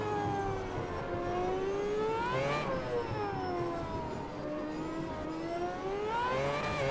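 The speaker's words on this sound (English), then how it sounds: "This Formula Reiza here is definitely my favorite car so far." A Formula Reiza open-wheel race car engine in the racing game Automobilista 2 at Monaco, screaming loudly and continuously as its pitch sweeps up and down through gear changes, with no talk.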